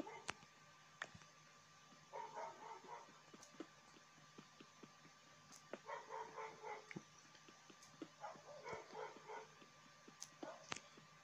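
A dog barks in short repeated bursts in a Minecraft game, the clusters spaced a few seconds apart amid sharp clicks and a quiet background hum.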